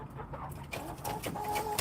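Small chickens cluck and call in a few short, close, fairly faint bursts, alone without talk.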